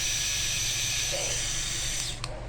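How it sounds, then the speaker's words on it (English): A bladeless electric beard trimmer runs continuously with a steady high-pitched buzzing whine, close to the microphone, and is switched off abruptly near the end. "So this is a good beard trimmer, is a bladeless beard trimmer."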